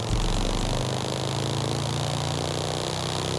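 A Morgan 3-Wheeler engine in Forza Horizon 5, a steady drone with a low rumbling idle, loud and continuous throughout, no voices.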